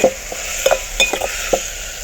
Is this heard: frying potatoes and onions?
yes